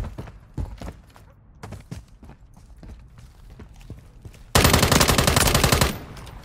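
Rapid automatic gunfire from a video game firearm in a free-for-all match on Scrap Yard and Skidrow, a loud dense burst near the end following quieter scattered shots and clatter.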